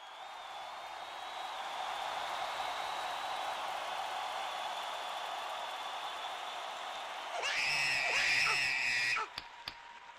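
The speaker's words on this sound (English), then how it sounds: "we gotta know those screams to know that that Tomahawk is ready" A wrestling crowd at a Valiant Wrestling show gives a long, steady roar of screaming that swells and grows louder toward the end before cutting off, with some faint talking in the mix.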